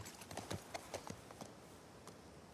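Horse hooves clip-clop in a quick, uneven rhythm of faint, close strikes in The Last of Us Part II, against a quiet game background.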